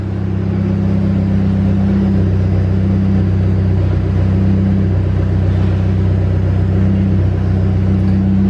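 A Nissan 300ZX Z32 on a chassis dyno, its rollers winding down after a pull: a loud, steady mechanical drone with a low hum that holds evenly throughout, without speech.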